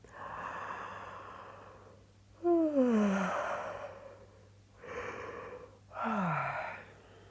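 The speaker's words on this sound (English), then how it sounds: "opening the mouth really wide, doing a lovely big yawn" A big, wide-mouthed yawn during a yoga class, performed twice: each begins with a long breathy exhale, then a voiced falling groan sweeps downward, close and clear with no talk over it.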